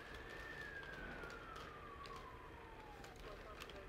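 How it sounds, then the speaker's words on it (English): A fire truck siren wails faintly in the distance as one long tone that slowly falls in pitch, partly buried under steady background noise. "What's amazing is there's a fire truck there already."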